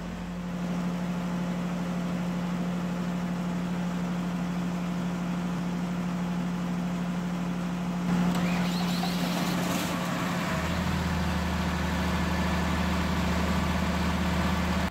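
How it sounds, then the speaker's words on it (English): A small portable generator's engine idles with a steady low hum for the whole stretch, with a brief rise in noise midway and a shift to a deeper tone near the end, with no voices. "Now I'm going to start the engine."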